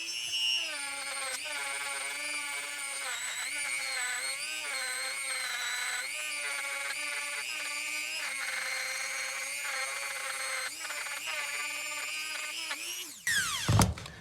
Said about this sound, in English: I actually forgot that I had these abrasive, like maroon Scotch pad wheels for the Dremel. I'm gonna hit it with that